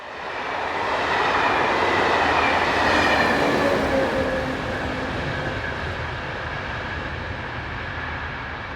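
An SNCF class 26000 electric locomotive, number 26146, hauls a passenger train through Windenheim station, a steady rushing roll of wheels and motor swelling as it nears, then holding loud and close.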